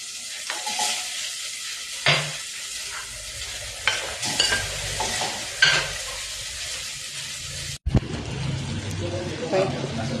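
Garlic and onion fry in a pan with a close sizzle as they are stirred, punctuated by loud scraping strokes and one sharp clatter near the end, with a voice speaking now and then.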